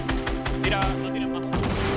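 Gunfire in the Fortnite video game, a quick string of sharp shots in rapid succession, loud and close, mixed with someone speaking excitedly.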